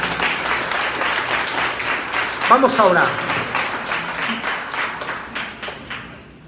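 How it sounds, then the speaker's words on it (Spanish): A church congregation claps during a Spanish-language sermon service, with steady, close applause that thins toward the end while a voice speaks over it. "Démosle un aplauso al Señor"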